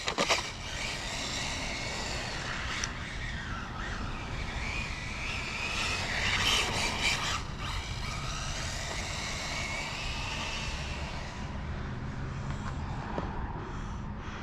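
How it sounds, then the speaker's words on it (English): A modified car driving down a street with a steady loud roar of engine and road noise, rising and falling slightly over the run; close and continuous, with no talk. "You can hear the tires ballooning."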